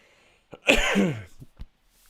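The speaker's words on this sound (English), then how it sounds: "I need to settle the cough a little bit" A man with a tight chest and mild asthma-like symptoms gives a single harsh, close cough with a rough tail, followed by a couple of short softer coughs, with no talk over it.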